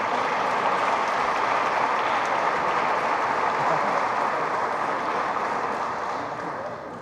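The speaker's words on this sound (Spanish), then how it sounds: "Y desde luego, fuerte, fuerte el aplauso" Loud, sustained audience applause fills a book presentation hall, a dense steady wash of many hands clapping that tapers slightly at the end.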